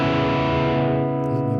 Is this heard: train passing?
no